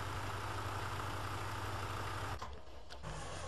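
A tractor engine idles steadily in Farming Simulator 2013, a low continuous rumble that holds level, then briefly thins and dips before settling back into its drone.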